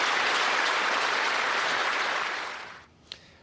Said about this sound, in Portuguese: Houve uma salva de palmas em homenagem às vítimas.